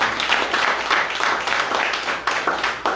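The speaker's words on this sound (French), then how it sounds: "Acclame pour Jésus." A church congregation at a Sunday service claps loudly and steadily for Jesus, a dense sustained ovation that fills the room and continues without a break.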